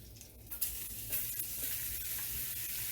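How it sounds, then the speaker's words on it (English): Onions hitting a hot pan while making smothered pork chops, a bright hiss that jumps up after a clatter and then settles into a continuous sizzle, with a few stirring scrapes and no talking. "So we're going to throw a few onions in here."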